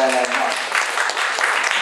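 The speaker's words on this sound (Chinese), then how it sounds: "掌声" A hall audience bursts into brief, brisk applause to welcome a professor from Jinwen University of Science and Technology, the clapping close and full just after a voice speaks.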